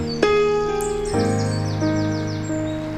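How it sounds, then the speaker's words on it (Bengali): Birds chirp outdoors in bright, repeated tweets and short whistled calls over a sustained tonal background, close and clear, with no talking. "পাখির কিচিরমিচির।"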